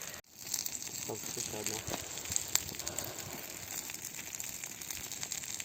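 A campfire crackles by a forest hut, with soft, irregular pops and snaps over a steady hiss that runs throughout.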